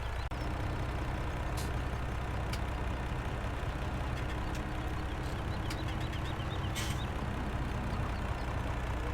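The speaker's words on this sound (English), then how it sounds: "Now they can hopefully reverse into the yard, which is very tight, but they should be able to do it." A delivery lorry idles and reverses into a tight farmyard, a steady low engine rumble at moderate distance with faint intermittent reversing beeps over it and no talking.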